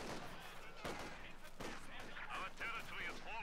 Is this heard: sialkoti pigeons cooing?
no